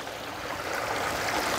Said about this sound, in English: We've got a pondless waterfall.